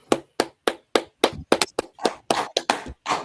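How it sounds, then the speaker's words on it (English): Rhythmic applause at a scripture class gathering: a dozen or so sharp, loud claps in a steady beat, each close and distinct with brief gaps between them. "let's clap it up."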